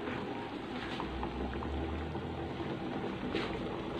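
Soto daging broth at a rolling boil in a pot on the stove, a dense continuous bubbling and seething that holds steady and close throughout, with no voices.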